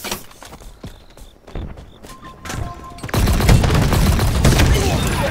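Gunfire in the video game Halo Infinite multiplayer, scattered sharp shots early, then a dense, loud burst of rapid fire and explosions filling the second half, with a voice talking over it.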